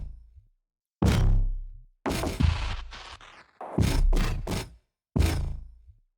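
Deep electronic bass line with heavy low-end weight in a production built in Ableton Live, sounding as a few separate punchy, sustained notes with short gaps between them, loud and alone with no voices.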